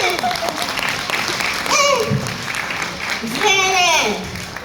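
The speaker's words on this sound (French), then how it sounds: "Quand je mets ça, vous applaudissez" An audience claps and cheers continuously while voices rise above it with drawn-out exclamations, the applause forming a dense bed under the shouting throughout.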